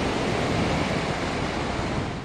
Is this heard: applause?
no